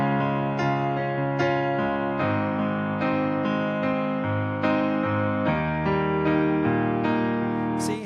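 A piano softly plays a slow sequence of sustained chords from At the Cross with the thumbs, each chord change clear and ringing into the next, steady and moderately quiet with no voices.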